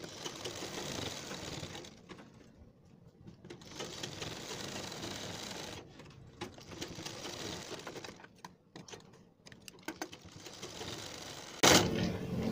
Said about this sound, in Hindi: तो दोस्तों, हम इस पर लगा लेते हैं सिलाई अपनी किनार की